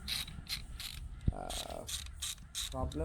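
A ratchet wrench breaking loose and turning out the 10 mm bolts on a Mazda's valve cover, with rapid clicking pawl bursts, a sharp knock, and a brief voice under the mechanical clatter.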